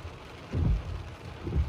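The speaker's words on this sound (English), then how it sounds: "When I left my house, I had no idea where the thunder was coming from." Thunder and heavy rain during a spring thunderstorm in Big Bear: two low rumbling swells of thunder under a steady wash of rain, with no talking.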